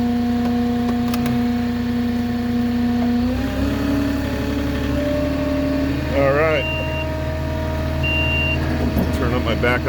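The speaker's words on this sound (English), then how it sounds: "My backup beeper so you guys can hear." A flatbed delivery truck idles on a job near Mountain Center, California, while its backup beeper sounds a few short, thin tones over the loud, steady engine drone.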